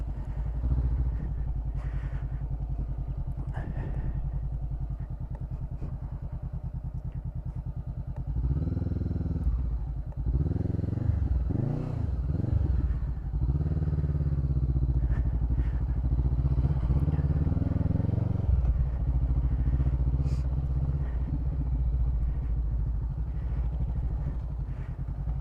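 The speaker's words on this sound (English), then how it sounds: "I definitely have less confidence on this bike in the dirt than I do on the little 250s." A heavy motorcycle, about 200 pounds heavier than an orange 250 dirt bike, rides a dirt trail, its engine droning steadily up close and rising into louder revving bursts midway, with clatter and thumps over rough ground.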